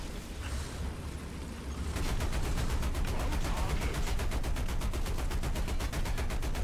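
Tank gunfire in the War Thunder game plays as a loud, rapid, evenly spaced burst of automatic fire over a dense rumbling battle background, continuing steadily for several seconds.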